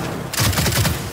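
Rapid gunfire bursts from the Gears 5 video game erupt loud and close after a brief lull, a dense rattling volley of several shots in quick succession.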